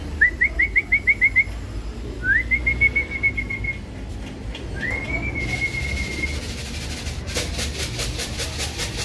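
Whistles and chirps accompany a racing pigeon landing after a 300+ km derby lap, heard as a quick run of rhythmic pulses, then two longer rising whistles, over outdoor background noise with no speech.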